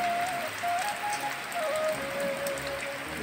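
Heavy rain falls steadily as a continuous broadband wash during the monsoon, with a faint tonal whine running through it and no talking.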